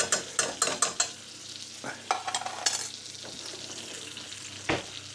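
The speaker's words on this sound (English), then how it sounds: "I'm getting my mushy peas in, guys" Mushy peas stirred into a pan with a spoon scraping, ending the sequence of cooking pan-fried cod with minty peas and garlic potatoes; a run of close wet scrapes and clinks at the start, then quieter stirring over a low sizzle, with no talking.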